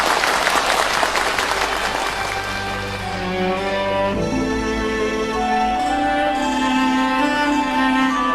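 Audience applause greets a Yue opera singer in a concert hall. The loud, dense clapping fades over several seconds as instrumental accompaniment rises beneath it.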